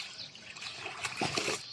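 Water trickles and splashes softly close by for a brief moment, faint under light background noise.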